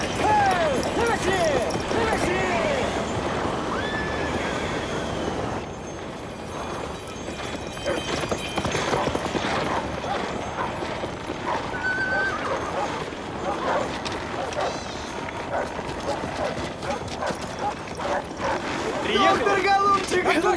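Several horses neigh and whinny while hooves clop through a snowstorm outside, with loud, agitated voices shouting over the animals throughout.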